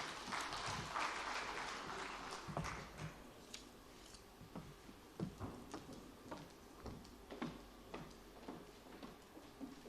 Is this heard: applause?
yes